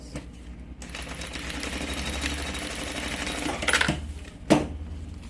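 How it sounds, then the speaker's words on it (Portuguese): A sewing machine topstitching each side of a fabric triple pencil case, a steady mechanical whirring run of stitches that stops, followed by a couple of sharp clicks, close by. "Faz um pesponto em cada lado."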